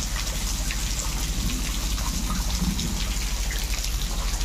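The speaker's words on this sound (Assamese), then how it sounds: "বাপৰে বৰষুণ পৰিল নহয়।" Heavy storm rain pours down steadily and close by, a dense unbroken hiss of drops drumming on surfaces, with no voices over it.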